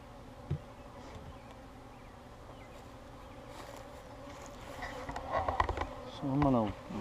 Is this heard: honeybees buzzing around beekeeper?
yes